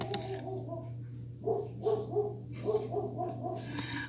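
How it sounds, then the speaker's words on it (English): A watchdog barking some distance away, a series of muffled barks repeating over steady background hum, with no talking. "pretty sure it was just another dog, but you never know when you have a watchdog what they're barking at"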